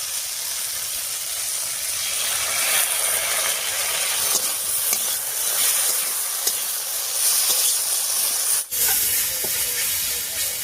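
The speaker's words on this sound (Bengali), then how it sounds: "এবারে বাটা মশলাটা দিয়ে দিচ্ছি" Ground spice paste hits a hot pan while a magur fish curry with thankuni leaves cooks, giving a loud, continuous hissing sizzle that briefly dips near the end.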